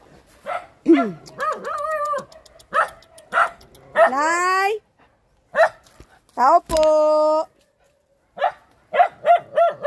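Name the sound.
dog barking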